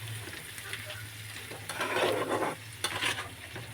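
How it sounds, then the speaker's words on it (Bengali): Crab sautéed and stirred in a pan, with a steady close sizzle and intermittent scraping strokes that grow busier midway, with no voices. "প্রচুর কষাতে হবে। কাঁকড়া কিন্তু খুব কষাতে হয়।"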